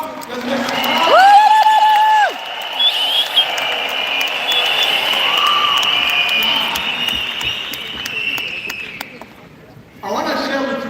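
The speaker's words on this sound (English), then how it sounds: "So let's give the home office a round of applause. Let's make some noise." Live audience applause and cheering at a company event honouring the home office, a dense steady wash of clapping and crowd noise lasting several seconds, with a whistle-like tone near the start and voices over it.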